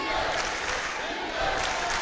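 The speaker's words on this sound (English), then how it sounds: "The crowd comes alive." A basketball arena crowd at a women's college game rumbles and cheers in a loud, continuous wash of voices, with chanting for defense blending into the noise.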